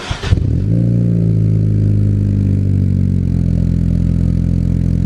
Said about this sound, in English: This is the startup of my 2007 Honda Civic EX with the 60mm